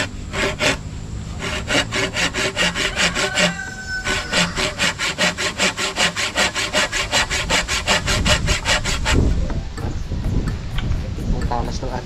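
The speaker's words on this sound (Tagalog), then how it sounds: "meron na po ako mga kawayan dito na nakaready. At yan, paputulin ko na po ito." Hand saw cutting through bamboo stalks, a fast, regular back-and-forth rasp of many even strokes, close and loud, pausing briefly mid-way before resuming, then ending with rougher handling sounds as the cut finishes.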